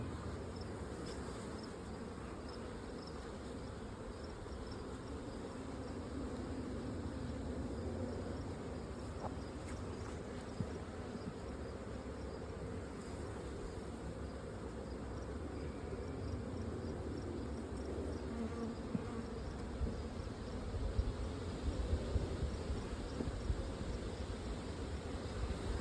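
Honeybees swarm and buzz steadily around an opened hive in a mite-treatment trial, a dense, continuous drone close by with no pauses and no voices over it.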